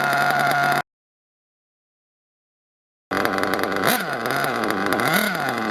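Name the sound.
nitro RC engine idling up and then dropping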